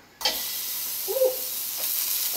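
A ball of burger meat hits a very hot frying pan and sizzles loudly, a sudden hiss that settles into steady frying with a faint scrape of a spatula pressing it flat.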